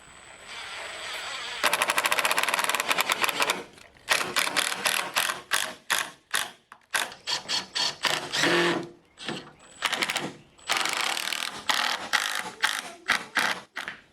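A power driver sinks screws through pocket holes to fix glued corner braces on the wooden base of a chicken tractor, in a series of loud, close whirring bursts of varying length with short pauses between them.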